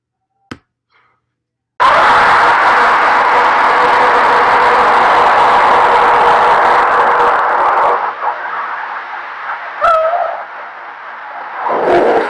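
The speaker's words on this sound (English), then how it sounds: "taking my mouthpiece out and just playing" A brass instrument played with its mouthpiece removed gives a loud, continuous white-noise screech. The rushing hiss holds steady for several seconds, then thins and wavers with brief squeaky bends before fading out.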